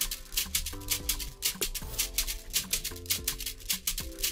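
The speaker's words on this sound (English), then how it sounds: "So I'm going to add a shaker's loop which sounds like this." Afrobeat shaker loop programmed in FL Studio, a steady stream of bright, rapid shaker hits over a fuller beat with bass and melodic notes, loud and continuous throughout.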